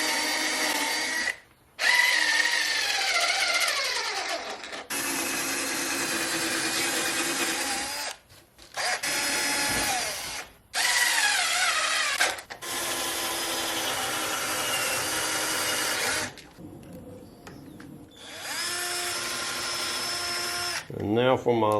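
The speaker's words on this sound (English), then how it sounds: "Same as before, I'm going to follow it through with a regular drill bit." Power drill with a regular bit boring into wood from a 100-year-old farmhouse door, loud whirring bursts of drilling broken by short pauses, close up.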